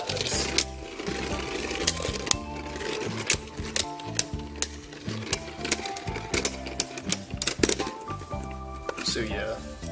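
Beyblade tops Dragoon Absorb and Valtryek V2 Knuckle Extreme battle in a stadium, giving a rapid, buzzing rattle with sharp knocks and clacks as they collide, loud and close while a person talks over it.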